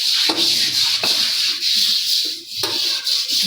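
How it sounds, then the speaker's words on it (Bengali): A sink basin is scrubbed clean by hand, giving close, rhythmic rubbing strokes in short repeated passes with brief pauses between them. "এবার বেসিনটা পরিষ্কার করে নিই।"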